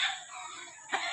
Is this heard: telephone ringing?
no